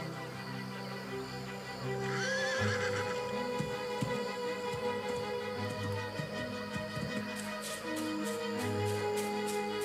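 A foal only a few hours old neighs and whinnies in open Maremma country in winter, with hooves clip-clopping on the ground and other horse calls nearby, all fairly faint and distant-sounding.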